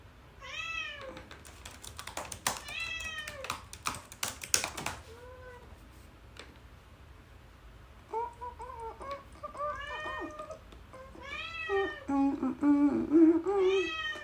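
A cat meows repeatedly close by, its calls coming in clustered bursts, while computer keyboard typing clicks rattle intermittently alongside.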